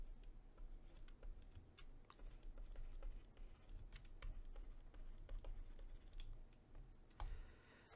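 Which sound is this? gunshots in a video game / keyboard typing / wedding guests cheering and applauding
keyboard typing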